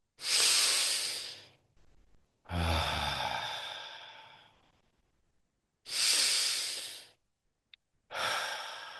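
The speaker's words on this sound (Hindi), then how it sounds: "तो एक दो गहरी सांस लें आप मेरे साथ।" Slow, deep breaths taken together during a guided relaxation exercise: four long, loud inhales and exhales, each lasting about a second and a half to two seconds, clearly audible on their own with quiet pauses between them.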